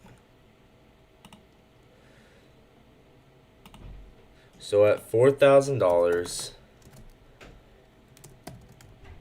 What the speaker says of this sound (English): I'm typing it.